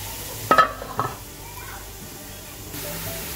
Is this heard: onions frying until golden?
yes